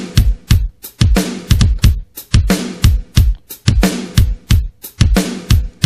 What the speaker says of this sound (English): I can add this one in over here and have the double beat with the kick to it.